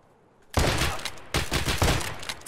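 Pump-action shotgun in Escape From Tarkov firing two loud, close blasts about a second apart, each with a rough, rumbling tail, after a quiet start.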